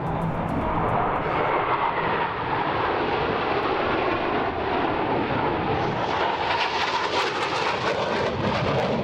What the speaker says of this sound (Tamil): தேசிய கொடி வண்ணத்தை வானில் தூவியவாறு பறந்த ஜெட் விமானங்களின் சாகசம் பார்வையாளர்களை வெகுவாக கவர்ந்தது